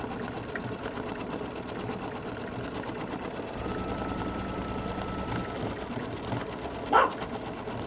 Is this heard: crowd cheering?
no